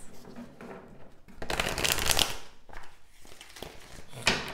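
Tarot cards are shuffled by hand, a close riffling flutter that swells into a dense burst midway, then softer shuffles and a final snap of cards.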